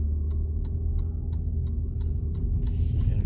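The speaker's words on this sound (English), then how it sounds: "And the blinker, of course, sounds kind of funky too." Turn signal ticking on a Saab 9-5 3.0t, a steady run of evenly spaced clicks about three per second over a loud low engine hum inside the car.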